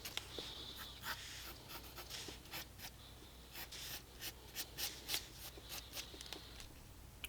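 Pencil strokes on paper sketching a quick branch under a bird's claws, a close, dry scratching in short bursts of quick strokes with brief pauses between them.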